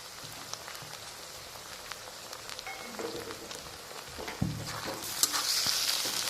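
Tomato and onion frying in a pan, a steady close sizzle with light stirring scrapes, growing louder and hissier toward the end.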